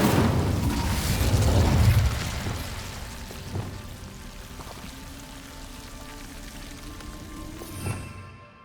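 The Incendio fire spell erupts in Hogwarts Legacy with a loud rushing burst of flame that swells over the first two seconds, then fades into a softer crackling tail with a couple of small pops.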